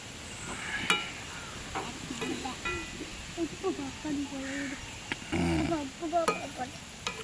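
Ingredients for a dried anchovy curry sizzle and get stirred in a hot pan, with scraping strokes and steady frying crackle while someone talks over the cooking.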